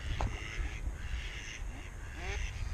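A few nasal mallard duck calls come through over steady low outdoor rumble and background chatter at Lake Iznik, with other bird calls mixed in.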